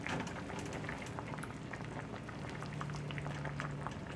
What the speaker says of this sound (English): I'm going to let them simmer a few more minutes on low, just enough to reduce the broth